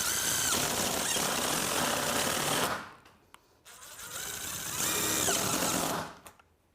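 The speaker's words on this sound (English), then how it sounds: "we're now going to take our pan head screws now, and we're going to fasten the top of these." Power driver sinking pan head screws into standing seam metal roof trim at a low-to-high pitch break, two close, loud whirring bursts that rise in pitch and stop abruptly, separated by a short quiet gap.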